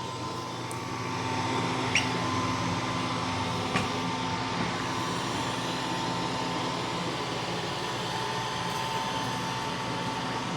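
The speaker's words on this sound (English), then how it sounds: "It's relatively quiet. It is vacuuming and mopping at the same time." A Mova Z60 robot vacuum mop vacuums and mops at once indoors, giving a steady, fairly quiet motor hum with a whirring tone that holds constant throughout.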